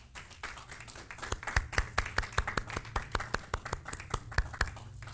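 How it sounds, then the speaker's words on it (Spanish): A church congregation breaks into applause, with scattered claps building into a brisk, steady clapping rhythm over several seconds, moderately loud in a reverberant room. "Dale otro aplauso para ellos"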